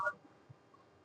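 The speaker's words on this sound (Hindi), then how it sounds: "किसका फोन आ रहा है?" A telephone rings or beeps briefly in a quiet classroom during a chemistry lesson, a short faint electronic tone burst with a fainter tone later.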